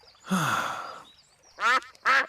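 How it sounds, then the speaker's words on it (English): Cartoon ducks from Peppa Pig quacking: one long drawn-out quack, then after a short pause two brief, loud nasal quacks in quick succession. "It is Mrs. Duck and her friends."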